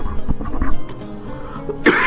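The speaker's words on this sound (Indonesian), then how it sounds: "ini kakak agak batuk sedikit" A single cough from a teacher in the middle of a maths lesson, close and fairly loud, with a burst near the end and no talk over it.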